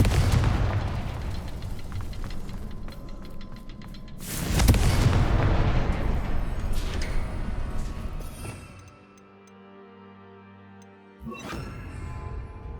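Fire spell explosions from Hogwarts Legacy burst in repeated booming blasts, loud and close, with a big hit midway, a quieter lull, then another blast near the end.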